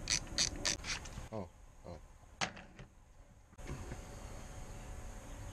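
A wrench loosens the bolt on a car battery cable terminal, giving quick ratcheting clicks, then a sharp metallic tap and a few faint clinks before steady background noise returns, all close and fairly quiet.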